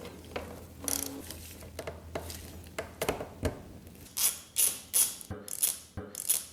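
Close, sharp ratchet clicks come in short bursts as a hand ratchet loosens bolts on a Kawasaki ZX10R motorcycle, with brief pauses between turns and faster clicking toward the end.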